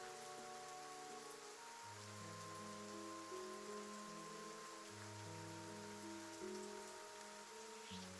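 Calm, steady rain hisses evenly throughout, with soft sustained musical tones underneath.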